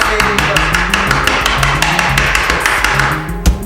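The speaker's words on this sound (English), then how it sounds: "chopping onions the old way" Rapid, steady knife chops through onions on a cutting board, close and loud, with a low hum underneath.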